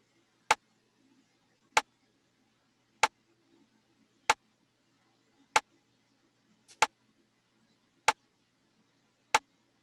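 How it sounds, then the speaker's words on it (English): Rim shot drum sample from a Cody kit, sharp dry clicks struck alone at a steady pace, about eight hits evenly spaced with silence between them. "It starts off with this rim shot, and it comes from a Cody kit"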